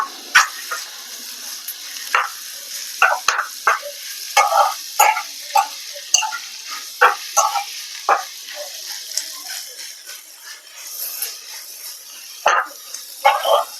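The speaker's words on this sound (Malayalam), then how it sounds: "അതുപോലെ തന്നെ ചതച്ച് വെച്ച ഇഞ്ചിയും കൂടി ഇട്ട് കൊടുക്കാം. നല്ലപോലെ ഒന്ന് മിക്സ് ചെയ്ത് കൊടുക്കാം." Crushed ginger frying and being stirred in a pan for Kerala-style spicy potato masala, with repeated short scraping and stirring strokes over a soft, steady sizzle, fairly close and without talk.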